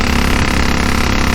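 Velocette KTT motorcycle engine running steadily at riding speed on a road, with girder forks and a rigid rear end; a constant, loud, dense drone without breaks and no talking.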